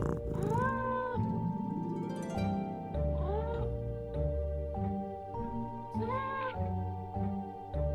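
A cat in the Nancy Drew video game meows three times, clear and close, with drawn-out rising calls over a steady musical score.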